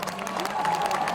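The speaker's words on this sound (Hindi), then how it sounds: "आप सब के लिए जोरदार तालियां हो जाएं इनके लिए एक बार" An audience claps and cheers for a film team at a launch event in Jaisalmer, a brief burst of crowd applause.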